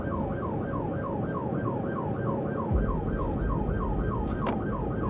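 An emergency vehicle siren wails in a steady rising-and-falling cycle over a continuous low rumble of traffic, loud and sustained throughout, with a brief higher-pitched chirp near the end.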